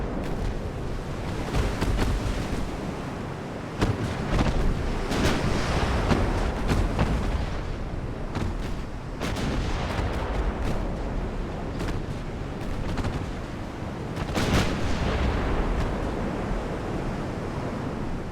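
Warship main guns fire in Ultimate Admiral: Dreadnoughts during an 1890-era naval battle, with heavy booms bursting every few seconds over a constant roaring wash of sea and battle noise.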